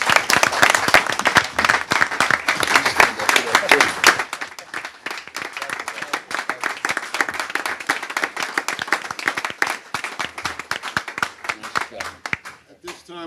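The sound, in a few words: round of applause for Ted Garlick and Michael Lawande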